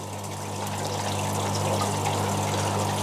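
A Fluval FX aquarium canister filter with UVC runs steadily, giving a constant pump hum under a rushing, trickling flow of water. The sound is close and loud, and no one speaks.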